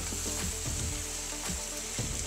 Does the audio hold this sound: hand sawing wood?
no